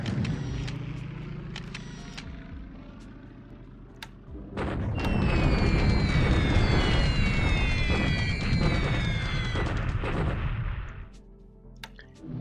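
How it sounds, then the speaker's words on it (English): Bombing explosions in a WWII strategy game, a few sharp isolated blasts followed by a loud sustained rumbling barrage that fades out near the end, with no talk. "A little other light bombing going on here in China."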